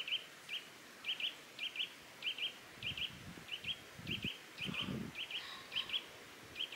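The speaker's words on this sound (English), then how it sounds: "Cuckoo in the distance." Outdoors on a hillside hike, a small bird repeats sharp high chirps in a steady, regular rhythm while soft rustling and low thuds sound nearby; a distinct distant cuckoo call is not clearly picked out.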